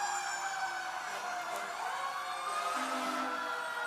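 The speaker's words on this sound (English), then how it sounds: "Assistant Chief Nick Morosco driving Engine 7." A fire engine siren wails at a St. Patrick's Day parade as Engine 7 passes, rising and falling in long sweeps at moderate distance over steady crowd and street noise.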